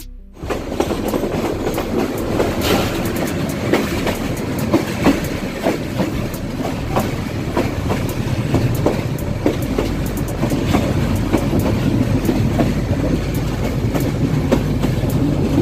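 A passenger train running on rails between Sylhet and Comilla, heard from inside the carriage as a loud continuous rumble with rhythmic clickety-clack of wheels over rail joints, no voices.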